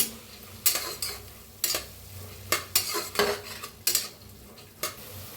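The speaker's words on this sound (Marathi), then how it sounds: "मटकीला जरा हलवून घेऊया। त्याच्यात टाकूया अर्धा चमचा हळद, त्याला भी मिक्स करून घेऊया।" A spoon stirs moth beans with turmeric in a frying pan, giving about eight distinct scraping clatters at an uneven pace over a quiet, faint sizzle.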